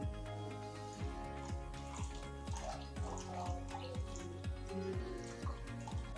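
Water trickles and splashes into a vessel holding raw mango pulp and jaggery for mango sherbet, a thin running stream with small rhythmic gurgles repeating evenly throughout.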